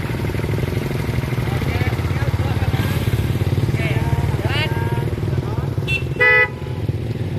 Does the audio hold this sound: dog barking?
no